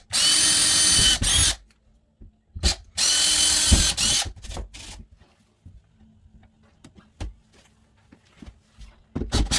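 A power drill fastens a kid's coat rack to a wall in two long, loud whirring runs, then shorter bursts with ratcheting clicks and quiet pauses between them.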